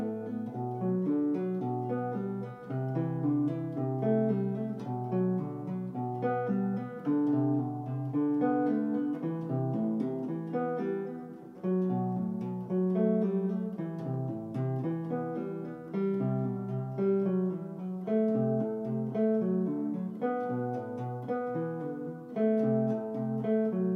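Guitar playing a stepwise melodic pattern across the 6th, 5th and 4th strings within one octave of a mode against a sustained note, with steady, evenly picked notes ringing throughout.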